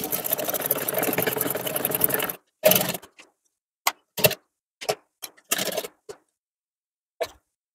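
A sewing machine stitches a lehenga seam, running steadily for about two seconds, then sounding in short separate bursts with quiet gaps between them, close and clear with no talking.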